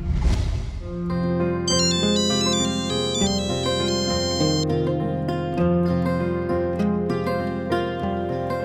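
A melodic electronic phone ringtone plays continuously, loud and close, a repeating bright tune over sustained tones with no voices.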